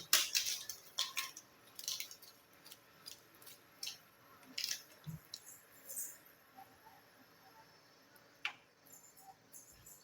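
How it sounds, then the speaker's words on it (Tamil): A spoon taps and scrapes as coffee powder is stirred into homemade hair dye in a bowl, with scattered close clicks and soft mixing scrapes that come in uneven bursts, quiet overall and with no speech. "காப்பி பொடி போட்டாச்சு நல்லா கலந்து விட்டுடலாம்"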